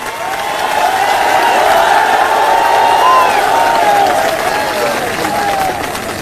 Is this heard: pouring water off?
no